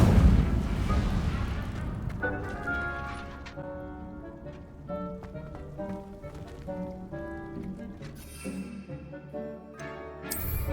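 A fiery Incendio spell from Hogwarts Legacy bursts out in a loud, roaring whoosh, then fades into steady orchestral game music with scattered crackles.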